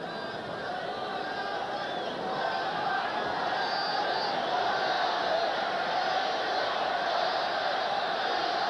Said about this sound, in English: You can hear the crowd screaming for Nevitt.